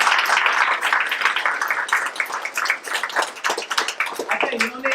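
An audience at a Hindi stage play claps in a brisk, uneven patter, fairly close and moderately loud, with a voice briefly heard near the end.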